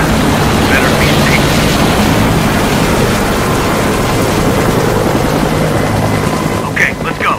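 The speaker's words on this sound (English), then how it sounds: "Hear that? Helos? Yeah, sounds like they're coming closer." Helicopters approach in the video game Sniper Ghost Warrior 3: a loud, steady rotor drone fills the whole stretch, thinning out near the end.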